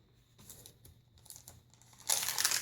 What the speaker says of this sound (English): The sound of crinkling paper.